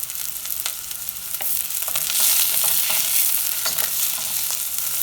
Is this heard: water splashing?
no